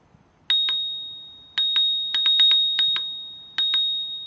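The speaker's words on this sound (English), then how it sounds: "And if you want to know what it sounds like, here you go." A bell on a 2018 RadRover electric fat bike rings alone in a series of bright, clear dings, some single and some in quick pairs, each ringing out briefly with a sustained metallic tone.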